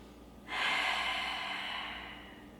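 A single long, close breath, sharply drawn in and then easing off, during a slow-burn vinyasa yoga flow.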